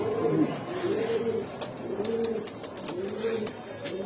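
Several pigeons, Kaldom and Sabchila breeds, coo in low, rolling phrases that repeat steadily, with faint clicks and rustling in the background.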